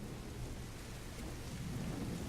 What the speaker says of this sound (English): Falk sends you out in the pouring rain and won't even tell you what you're after.